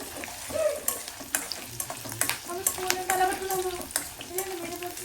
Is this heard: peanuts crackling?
yes